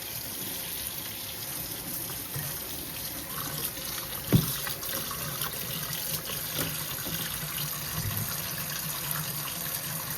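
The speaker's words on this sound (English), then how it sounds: "we're gonna wash it in the sink because this sink is big enough to hold" Water runs steadily from a tap into a large kitchen sink, a continuous soft hiss and splash with a faint knock partway through.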